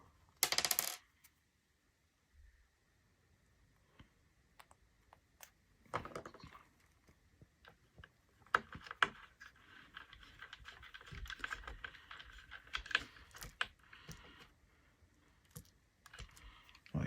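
Small screws are driven into an RC car during a build, with sparse quiet clicks and light metallic taps close by, separated by near-silent pauses and a brief rustle at the start.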